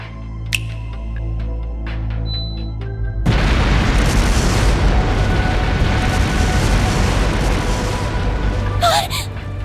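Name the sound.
explosions from explosive artifacts in Trails Through Daybreak video game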